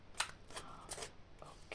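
Tarot cards being shuffled in a few soft, papery bursts, quiet and close, with short pauses between riffles.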